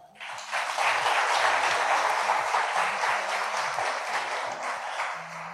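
Enthusiastic applause from an audience cheering children and youth at the CEFAP summer camp, steady and full for several seconds, with a low musical tone underneath.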